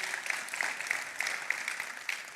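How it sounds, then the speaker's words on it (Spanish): A church congregation applauds in a sustained patter of claps. The sound is moderately quiet and steady, with a few sharper individual claps standing out. "Iglesia, si me ayudan, este aplauso es para ti ahí que nos sigues"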